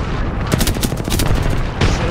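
Rapid bursts of gunfire in a shooter video game, loud close cracks in quick clusters with a short pause before a final burst.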